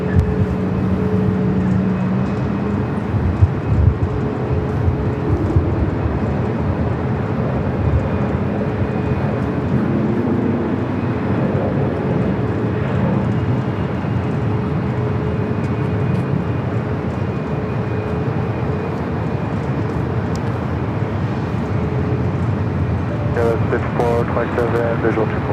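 An airliner, a 737 MAX 8 among the traffic, passes at LAX with a steady, loud engine roar that fills the whole stretch, while people talk over it throughout.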